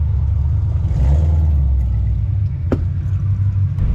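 A 1952 Ford rat rod pulls away on its first drive, a loud steady low rumble of the engine with a brief rise in revs, close by and continuous, with a short sharp knock partway through and no talking.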